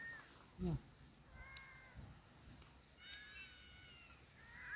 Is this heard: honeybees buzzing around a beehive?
no